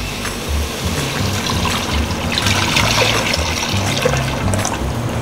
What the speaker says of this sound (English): Then I'm going to add about 600 mils of water.